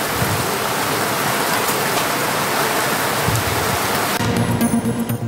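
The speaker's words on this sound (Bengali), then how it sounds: "স্বস্তির বৃষ্টি ময়মনসিংহে।" Steady rain pours down in Mymensingh, a dense, even wash of drops hitting surfaces, loud and continuous with no voices, with a faint tonal sound creeping in near the end.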